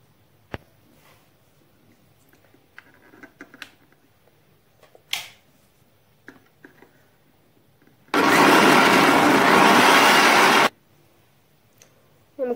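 An electric mixer grinder pulses mayonnaise ingredients with vinegar in one loud burst of about two and a half seconds. Small clicks and taps of handling come before it.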